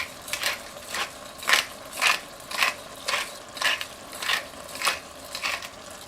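A pepper mill grinding black pepper for a green bean stew, about eleven evenly spaced crunchy twists in a steady rhythm, close and fairly quiet.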